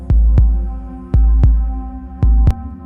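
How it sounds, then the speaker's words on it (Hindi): Heartbeat sound effect for a Hindi horror story, a loud deep thumping pulse in close pairs with low hum underneath, three double beats heard alone without talk. "उसका दिल तेजी से धड़कने लगा।"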